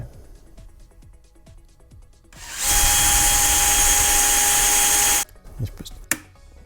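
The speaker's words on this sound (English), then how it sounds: "I'm just going to try to drill straight through the wood and aluminum and out the back" After quieter background clatter, a power drill whines steadily at high speed for about three seconds as it bores through wood and aluminum, loud and close, then stops abruptly.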